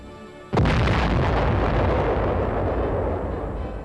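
A US atomic cannon, the largest gun of the Cold War, fires a single enormous blast that hits hard and close, then rolls on as a long, dense rumble fading slowly over several seconds.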